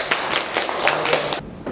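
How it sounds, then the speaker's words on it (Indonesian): Students in a classroom clap together for a short, dense round of applause, with quick overlapping claps close by that hold steady and then drop away sharply near the end. "Tepuk tangan untuk kita semua."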